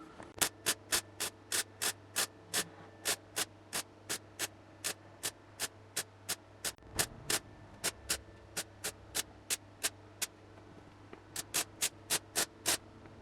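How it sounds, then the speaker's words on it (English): A patch plate being spot welded into a classic Saab 900 body, a steady series of sharp, evenly spaced welding zaps with short gaps between them over a low electrical hum, close up. "So I prepared the first plate and now we can weld that in."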